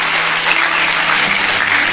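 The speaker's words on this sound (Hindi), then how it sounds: "मुझे पता था 2-4 लोग ही ताली बजाएंगे।" A small audience at a religious gathering gives a short burst of applause, a few people clapping loudly and continuously without any talk over it.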